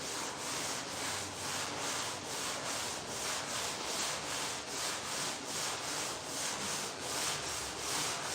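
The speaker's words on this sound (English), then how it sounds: "Here I am again using my packing blocks for sanding blocks." Packing-foam blocks used as hand sanding blocks rub back and forth in a steady, even rhythm of soft raspy strokes, close and continuous with no talk.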